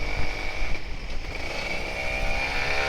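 A Kawasaki Ninja RR 150 motorcycle engine on a wet night ride, a loud, continuous engine drone with a steady whine and wind rush, no voices.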